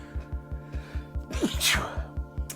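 One sharp sneeze bursts out up close over a steady rhythmic thumping beat in the background.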